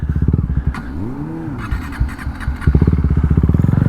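A KTM 390 Duke single-cylinder motorcycle engine chugs with a low pulsing rhythm, falters and cuts out into a brief lull with a sweeping tone, then sputters back to a loud, steady throbbing idle close by.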